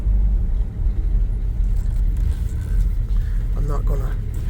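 A 1978 Chevy C10 pickup truck rolls around a neighborhood block at low speed, giving a deep steady engine rumble close by, with someone talking over it.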